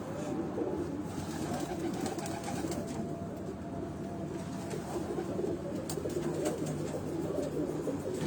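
Lal Pari breed pigeons coo in a continuous, dense chorus at a pigeon gathering, with many birds at close and middle distance blending into a steady murmur.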